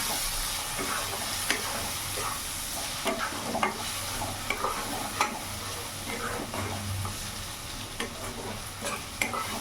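Chicken pieces frying with turmeric, cumin and coriander powder, stirred in a pan: a continuous sizzle under scattered scraping and tapping of the spoon, moderately loud and close, with no speech.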